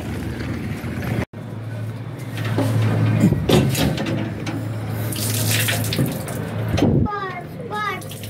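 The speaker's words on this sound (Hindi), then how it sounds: "यही होगा पानी" A tap runs water in a continuous splashing rush, fairly close and loud, with people talking over it throughout.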